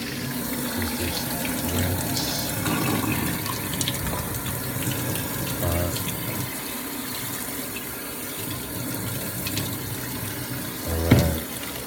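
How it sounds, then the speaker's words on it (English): Tap water runs steadily into a sink as food gets a final rinse, a continuous close gush with occasional clunks and splashes and no talking. "then I'm gonna do a final rinse"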